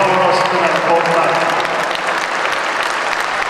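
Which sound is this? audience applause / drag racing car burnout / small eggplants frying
audience applause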